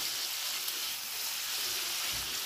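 Three chopped tomatoes fry in a pan with a continuous, close, hissing sizzle that holds steady throughout, with no voices.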